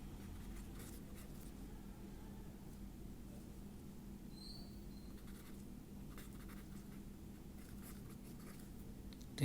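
Chalk or marker strokes scratch across a board during a maths lesson, faint short bursts of scratching over a steady low room hum.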